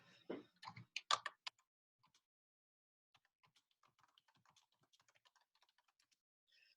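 Light typing on a computer keyboard, a short burst of key taps followed by sparse, faint clicks against near silence.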